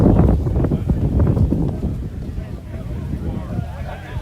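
Strong wind buffets the microphone outdoors at the Hamvention 2025 flea market in rough, continuous gusts, loud and rumbling, easing slightly toward the end.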